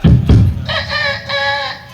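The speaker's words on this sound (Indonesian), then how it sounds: "Ayam jantan juga bangun." A village rooster crows loudly and close by, one drawn-out call breaking into a wavering, stretched cock-a-doodle-doo with no talk over it.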